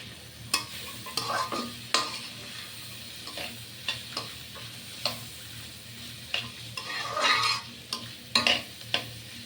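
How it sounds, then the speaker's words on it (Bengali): Prawns and Malabar spinach fruit being stirred in a pan with a spatula, giving close scraping strokes and clinks over a soft steady sizzle, in irregular bursts across the whole stretch. "ঢাকনাটা উঠিয়ে একটু নেড়ে চেড়ে দিচ্ছি"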